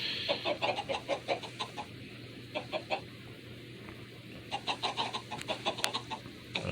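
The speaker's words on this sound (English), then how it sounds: "More annoying than the sound of the chickens." Video game chickens cluck in quick, choppy bursts, pausing briefly in the middle before starting up again, with no talking.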